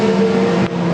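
Race cars in a Supercar Challenge round at Zolder, including an Audi and a McLaren, roar loudly and steadily up close, with a brief dip in engine note partway through.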